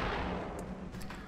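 A Gatling cannon blasts away in the turn-based strategy game XCOM Long War, a dense, loud roar of heavy gunfire holding steady for about a second with a couple of sharper crackles near the end.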